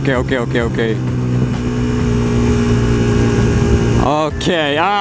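A Yamaha YZF R125 motorcycle, fitted with a Tuneboss ECU, drones steadily on a test ride, its engine hum loud and continuous throughout, with a voice talking over it at the start and end.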